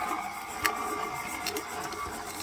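Stand mixer with a paddle attachment creaming butter and sugar on low speed for snickerdoodle dough, a steady mechanical whir with faint clicks, heard alone.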